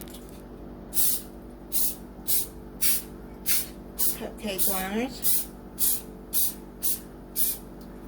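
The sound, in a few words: cooking spray sprayed into cupcake liners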